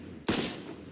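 A single sharp gunshot in the video game Sky Runners 6, a brief loud crack with a short bright tail, heard alone and close.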